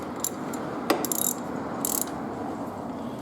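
A torque wrench clicks and ratchets during brake bleeding on a BMW 1100 motorcycle, making a few sharp, close metallic clicks and short ratcheting bursts over a steady background hiss, with no voices.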